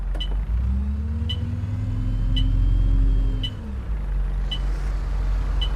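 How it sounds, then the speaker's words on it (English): A city bus in the simulator game OMSI 2 idles and drives with a loud, low diesel drone, its engine pitch rising and then dropping as it changes gear, while faint regular clicking ticks along in the background. "This bus too loud."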